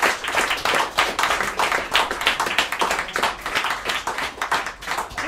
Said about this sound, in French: Je veux que vous applaudissiez les musiciens